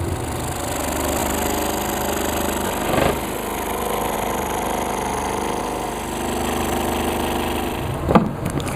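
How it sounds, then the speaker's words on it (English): Excalibur scroll saw by General International cutting a wood pattern for a cutting board, a steady close mechanical buzz running throughout, with a couple of brief louder spikes. "I'm now ready to scroll saw using in this case we're using an Excalibur scroll saw by General"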